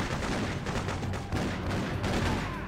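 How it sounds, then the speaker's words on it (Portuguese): Rapid bursts of gunfire crackle nonstop through a shootout in the video game Freedom Fighters, dense and loud, with overlapping shots forming a continuous fusillade. "Começou o tiroteio já"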